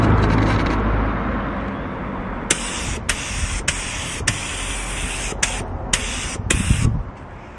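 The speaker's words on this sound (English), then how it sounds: "We're painting the door with a sprayer" Bursts of a 3M paint spray gun hiss in short, repeated blasts over a steady mechanical hum while painting a door, each spray lasting a second or less.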